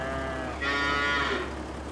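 Cows moo in Farming Simulator 22, a long, steady low call swelling in the middle over a constant farm-machine hum.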